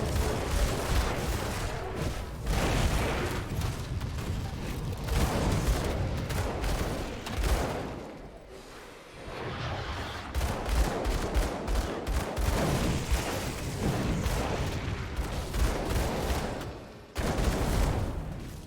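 Rapid dual pistol fire in Grim Dawn, dense bursts of sharp shots crackling nearly nonstop with brief pauses, loud and close amid busy combat effects.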